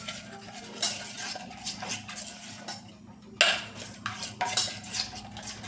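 A spoon stirring a thick potato masala paste in a bowl, giving close, quiet clinks and scrapes in an irregular rhythm, with a brief pause midway before the stirring resumes.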